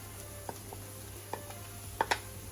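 Mushrooms being stirred in a frying pan give a few quiet, sparse taps and scrapes of the utensil against the pan over a low, steady background.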